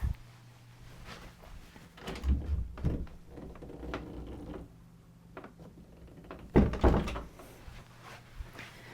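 A house door is opened and closed to let dogs outside, giving a couple of solid thumps and clunks with softer handling rattles and shuffling between them, close by and with no talking.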